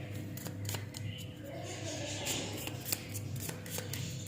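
A favorite tarot deck being shuffled by hand, quick soft riffling and snapping of cards in a loose rhythm, close and quiet, with a voice faintly present.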